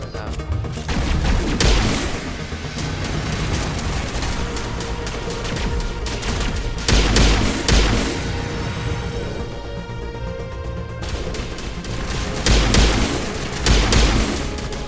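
Repeated video game gunfire crackles in dense bursts with heavy booms and explosions, the shooting near and loud and continuous over about fifteen seconds, with a few sharper peaks.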